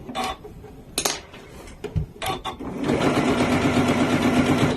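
A Janome sewing machine begins stitching after a few clicks and knocks of handling, then settles into a steady, fast mechanical whir that runs to the end.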